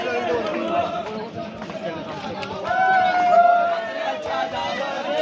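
A crowd celebrates loudly at the Ekvira palkhi procession, with dense cheering, chanting and babble that swells midway, voices layered over rhythmic background noise.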